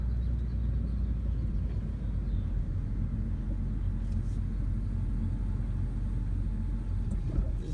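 A car rolls through a cemetery with a steady, low rumble of engine and tire noise, constant and close, with no other distinct sounds.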